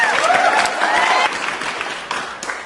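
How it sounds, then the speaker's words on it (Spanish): Applause welcoming political theorist Will Kymlicka to a lecture on communitarianism, moderately loud clapping from a room audience, with a voice talking over the first part before the applause thins out. "a quien lo recibimos con fuertes aplausos."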